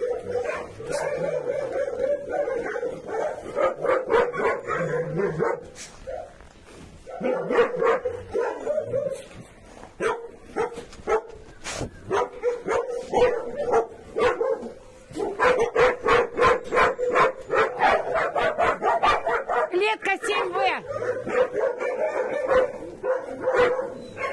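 Dogs in a shelter, with a big dog chasing the others and two fighting, bark loudly and almost constantly at close range, with sharp overlapping yips, growls and whimpers filling the pen.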